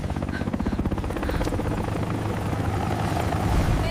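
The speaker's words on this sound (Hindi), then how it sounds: "ये हेलीकॉप्टर की आवाज है।" Helicopter flying overhead with a steady, loud rotor thump and engine drone throughout, no talking.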